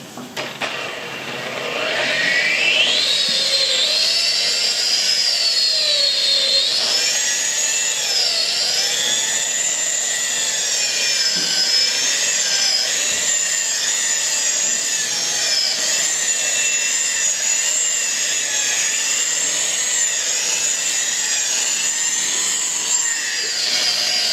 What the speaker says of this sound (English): now that we're done, we're going to dry this up and turn our buffing machine on